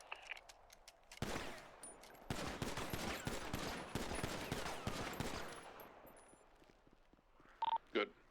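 Pistol shots at a firing range in the NoPixel roleplay game, a rapid string of sharp, fairly loud reports over several seconds, then a pause and two brief beeps near the end.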